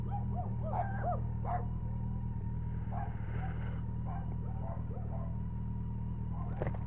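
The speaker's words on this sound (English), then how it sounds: "Bloody dogs." Dogs barking out on a street, faint and distant yips and whimpering barks scattered over a steady low hum, with no one talking.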